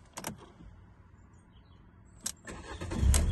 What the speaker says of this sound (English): So we'll just start the car now, give you the exact miles.